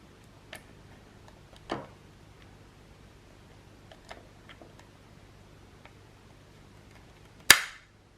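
Sparse mechanical clicks from an older i-cord knitting machine with a fault in a quiet room, a few soft ticks and one sharp louder click near the end.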